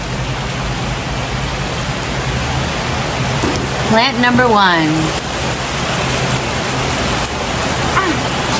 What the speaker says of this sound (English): I guess you're gonna witness a Miami storm.